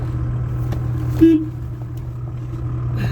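A loaded grain truck drives past on a village road, giving a steady, close, low engine rumble with a brief louder swell partway through and no talk.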